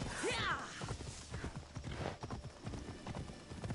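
Horse hooves clip-clopping in the video game Red Dead Redemption, a steady galloping rhythm with a brief whinny at the start, moderately close and fairly quiet.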